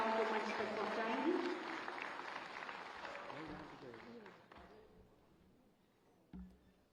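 Audience applause at the Khadi Mahotsav 2025 opening ceremony: loud clapping fades gradually and drops out near the end, while someone speaks over it on a public address system.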